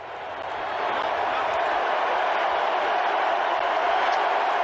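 A large crowd at a football game cheers for the president, a dense, sustained roar that swells in the first second and then holds steady and loud, like a distant stadium wash.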